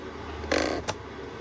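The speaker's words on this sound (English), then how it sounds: "The rumble motor doesn't sound great in it for some reason." The rumble motor in a Radiomaster radio transmitter gives one short, buzzy vibration of about a third of a second, followed by a brief click, close to the microphone in an otherwise quiet room.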